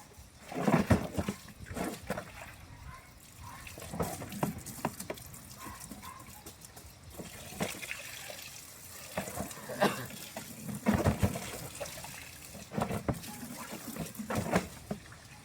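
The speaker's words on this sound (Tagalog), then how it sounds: "Para malagyan natin ito ng tubig." Water runs steadily into a container, a continuous splashing trickle lasting the whole time, with a few louder knocks and splashes along the way and no talk.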